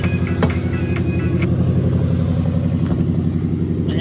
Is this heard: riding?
yes